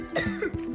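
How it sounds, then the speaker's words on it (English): A woman coughs a few quick, dry times in close succession, near and fairly soft. "Why is she coughing?"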